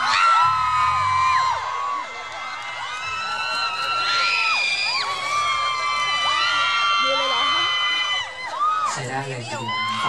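A large concert crowd screams and whoops loudly and continuously, high shrieks overlapping throughout, with a brief dip before swelling again.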